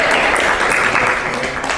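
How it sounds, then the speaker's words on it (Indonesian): Steady applause from an audience in a classroom-style session, dense and fairly loud, holding evenly through the short stretch. "Tepuk tangan."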